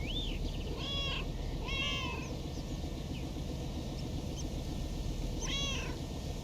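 Several cats meow in the game Lake, a handful of short rising-falling calls spread across a few seconds, fairly close and clear over a steady low ambient hum.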